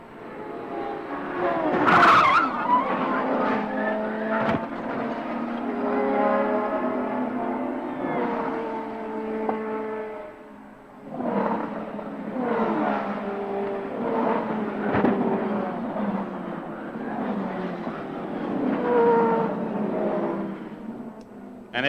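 IndyCar crash during a 1994 race, with repeated loud tire skids and squeals from race cars, engine noise rising and falling across several long bursts, no voices.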